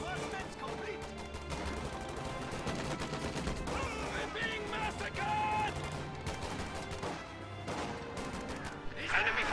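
Video game battle with grenadiers engaging: dense, continuous gunfire and bursts layered with explosions and other battle noise, staying busy and loud throughout.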